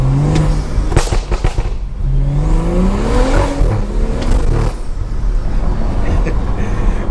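A loud Stage 2 turbocharged BMW engine revs hard several times at night, rising and falling in pitch, with sharp popping bangs and burbles from the exhaust crackling between revs.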